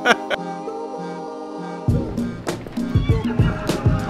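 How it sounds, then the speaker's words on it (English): In a video game, a horse neighs in a short whinny near the start, followed by splashing and hoof-like knocks while a person talks. "Oh, fucking horses, dude."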